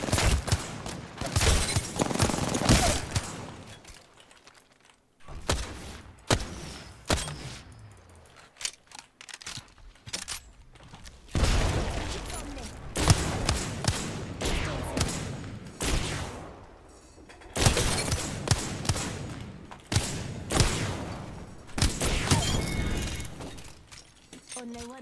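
Bursts of rapid gunfire in Apex Legends, loud volleys separated by short gaps, alongside clicky mechanical weapon handling, all close and harsh, with voices talking at points.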